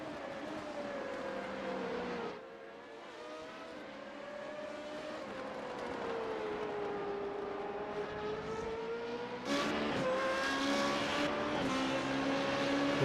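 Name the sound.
Formula 3.5 race car engines in iRacing video game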